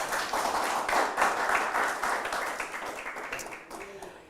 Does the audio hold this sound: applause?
yes